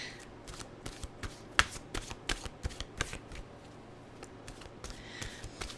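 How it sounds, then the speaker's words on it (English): Mantra cards being shuffled in a quick run of crisp, close flutters and snaps, then fading to quiet room tone. "let's get our mantra cards out here"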